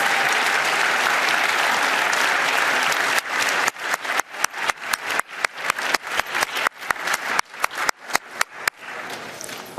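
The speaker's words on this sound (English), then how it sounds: "Yes, you can keep applauding them" An award ceremony audience applauds winners: dense, loud, continuous clapping fills the hall for several seconds, then breaks into a rapid series of distinct, close, punchy claps in an uneven rhythm until the end.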